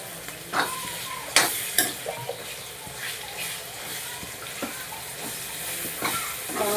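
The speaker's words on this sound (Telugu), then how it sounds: "అల్లం వెల్లిపాయల పేస్ట్ వేసుకున్నాక బాగా కలపాలి." Ginger garlic paste is stirred into a curry cooking in a pan, with steady sizzling and repeated scraping strokes of the spoon, close and alone.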